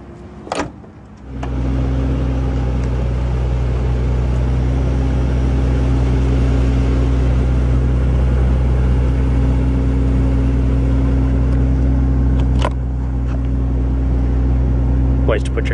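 A 2012 Mercedes-Benz S65 AMG V12 biturbo settles into a loud, deep, steady idle close by, a constant low rumble with a brief dip near the end and a couple of clicks at the start and close.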